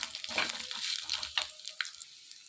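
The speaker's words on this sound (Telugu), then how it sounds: "కట్ చేసి పక్కన పెట్టుకున్న కొబ్బరి ముక్కలన్నీ కూడా వేసుకొని 1 నిమిషం ఫ్రై చేసుకోవాలి" Coconut pieces fry in a pan with light, crackling sizzle and scattered stirring scrapes, fairly faint and close, in short uneven bursts.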